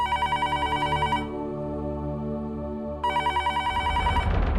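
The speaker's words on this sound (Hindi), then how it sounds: "आई फोन देखना, फोन आ रहा है" A telephone bell rings in repeated bursts, pauses for about two seconds, then rings again, close and fairly loud with no talking.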